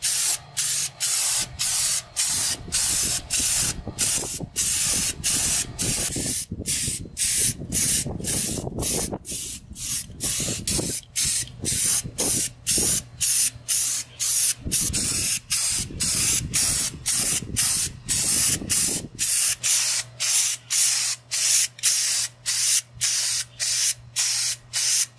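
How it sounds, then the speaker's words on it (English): Repeated bursts of spray paint hissing from a can onto the leaf springs and shackles of a Tri-Five Chevy, short pulses with brief gaps, close and steady throughout. "So let's spray these springs."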